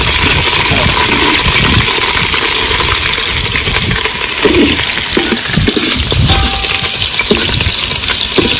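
Green chillies and mustard seeds fry in hot oil in a pan, giving a loud, dense, steady sizzle with scattered crackles and pops throughout.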